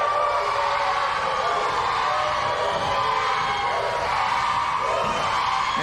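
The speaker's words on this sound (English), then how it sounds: "As expected, the crowd chanting, "You scared."" Large wrestling event crowd chanting and cheering in a dense, continuous roar throughout, loud and steady with rhythmic vocal swells rising above the din.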